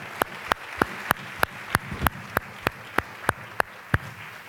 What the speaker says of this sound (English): How about a big round of applause for our students?